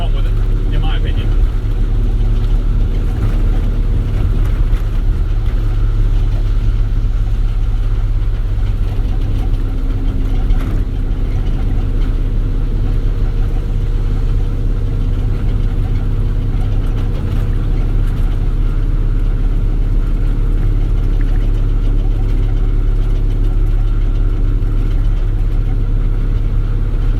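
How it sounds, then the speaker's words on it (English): A truck's engine running steadily with a low, even rumble throughout, close and loud, with a constant background drone and no talking heard. "you should be able to watch a video of how my truck is running and tell me if something's wrong with it"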